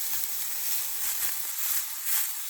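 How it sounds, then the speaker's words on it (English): Loud, bright sizzling from a thick meat patty frying in a pan on the highest heat, a constant crackling hiss with small pops, close up and uninterrupted. "So I heat up a frying pan on the highest heat. I'm gonna put that in here."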